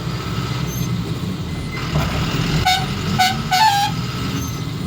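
Heavy traffic jam on a road under flyover construction in rain, with a constant engine rumble and several short horn toots and honks sounding over it from near and far.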